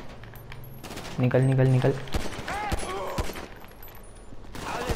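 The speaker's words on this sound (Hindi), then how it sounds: "हेडशॉट ही मारूंगा इनके." Rapid bursts of automatic gunfire crackle in the video game GTA 5 during a repossession mission, layered with someone speaking excitedly over the shots.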